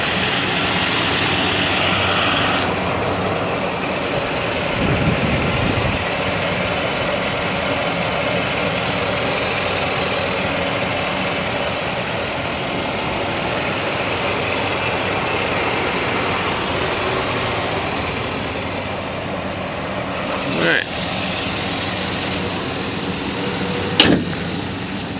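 A 2011 Ford F250 XLT SuperCab 4x4 with a V8 idles steadily, a smooth continuous hum with a brief louder swell early on and a couple of sharp clicks near the end.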